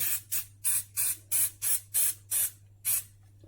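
Cooking oil spray coats a waffle iron before protein buckwheat-coconut waffles are made: nine short, even hissing bursts in a steady rhythm, close and clear, over a low constant hum.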